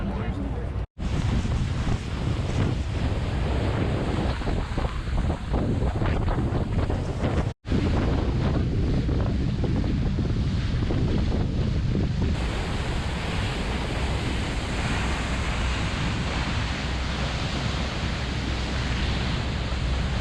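Strong wind roars across the microphone over rushing water and a ferry's engine rumble while crossing the straits to Mackinac Island, continuous and loud throughout.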